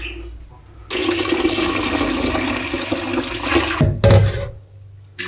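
Dye liquid for naturally dyeing fabric black, made with pomegranate, iron and logwood, poured through a sieve: a steady, close rushing splash for about three seconds, then a brief gurgle and drip.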